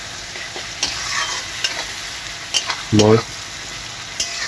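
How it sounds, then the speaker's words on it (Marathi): A tomato masala for a home-style chicken curry is stirred in a frying pan, giving a steady sizzle with scraping stir strokes, and a voice briefly speaks partway through. "चांगला हलवून घ्यायचं"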